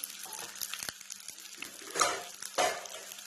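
Food frying in a pan in a village kitchen, quiet sizzling broken by clinks of a utensil against the pan and a couple of louder stirring bursts.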